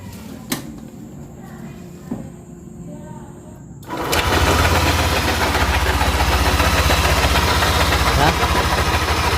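A Yamaha NMAX scooter engine with a rough rattle, run without its pulley, starts abruptly partway through and keeps a loud, steady close idle with a metallic clatter; before it starts, only quiet clicks and handling noise.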